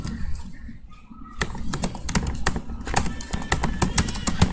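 Rapid typing on a computer keyboard while entering data into an Excel spreadsheet, a steady run of close, crisp key clicks that begins after a brief quiet pause and continues without talk.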